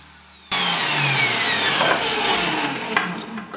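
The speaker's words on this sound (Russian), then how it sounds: "Теперь также измельчим или натрем на крупной терке кабачки." Zucchini is shredded in a kitchen food processor. The motor starts abruptly and then runs as a loud, steady whir, and its pitch slowly drops as the vegetable is fed through and ground, with no one talking.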